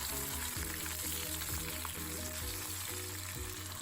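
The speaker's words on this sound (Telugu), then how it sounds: "ఇక్కడ దీంట్లో నేను ఆనియన్స్ యాడ్ చేసేస్తున్నాను, ఇలా సన్నగా కట్ చేసుకున్నాను. సో మంచిగా ఈ ఆనియన్స్ బ్రౌన్ కలర్ వచ్చే వరకు" Thinly sliced onions frying in a pan for a biryani, a steady close sizzle with faint stirring taps throughout, no voices.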